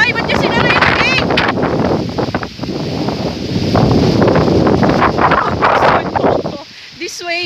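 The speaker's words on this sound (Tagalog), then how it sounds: "Hangin-hangin pa." Steady loud wind gusting across the microphone on an elevated treetop canopy walkway in a forest, with leaves rustling throughout, then dropping away near the end, with a brief voice at the close.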